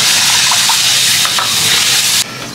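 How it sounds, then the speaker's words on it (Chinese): Prepared sauce stir-fried in red chili oil from a homemade hotpot base, sizzling loudly and continuously with bits of stirring scrape, then dropping abruptly to a softer hiss near the end. "炒出红油，把调好的碗子炒一下"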